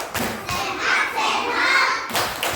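Children in a classroom doing a rhythmic clapping chant, bursts of group claps and thuds separated by chanted voices, close and fairly loud.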